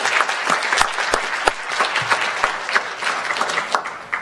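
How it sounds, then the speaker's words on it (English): An audience at a public hearing on the Clean Power Plan bursts into loud, sustained applause, with dense clapping and a few sharper individual claps standing out throughout. "Let's give them a round of applause."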